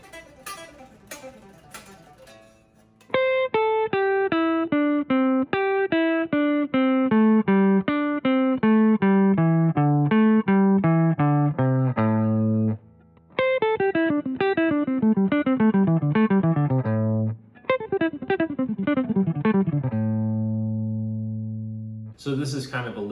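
An electric guitar plays fast picked runs of descending six-note groups through the minor pentatonic scale, clean and even, in several phrases with brief pauses between, ending on a held note.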